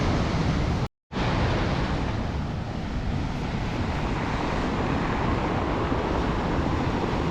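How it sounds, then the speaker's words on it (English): Storm waves roll and grind pebbles on a Scottish beach during a gale, a loud continuous roar of surf and wind buffeting that runs unbroken except for a brief dropout near the start. "That's the noise of the pebbles I was telling you about"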